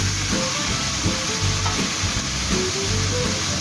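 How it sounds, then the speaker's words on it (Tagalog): Beef sizzles in a pan with garlic and margarine, a loud, steady frying hiss throughout, with faint stirring scrapes underneath. "ilagay na po natin yung ating baka kapag po lumabas na yung aroma ng ating bawang"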